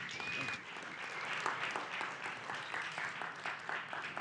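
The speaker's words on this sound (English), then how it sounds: "You may have heard some good clapping" An audience in a lecture hall claps steadily for several seconds, a moderate patter of many hands with a faint tone near the start.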